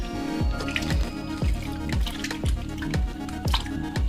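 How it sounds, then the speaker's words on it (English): Shrimp being rinsed in a big bowl of water for a seafood boil, with steady rhythmic sloshing and dripping splashes repeating about twice a second, close and with no talking. "Now I will be cleaning off my shrimp in my big old bowl of water."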